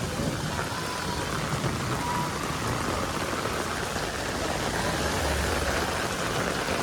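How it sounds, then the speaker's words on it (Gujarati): Heavy rain pours steadily in Surat at a venue hosting a gathering, a dense, loud, unbroken hiss of drops on surfaces with no pause and no speech. "અત્યારે ધોમે ધોમ વરસાદ પડે."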